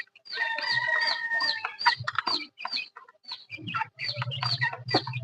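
Rhode Island Red chickens cluck and call close by in irregular bursts, with a rooster-like crow early on and busy, overlapping squawks throughout.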